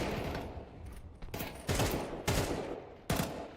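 Counter-Strike gunfire and a thrown HE grenade: a few sharp, loud bursts of rifle fire in a match, each broadband crack decaying quickly, spaced roughly every half second to second, with no talk over them.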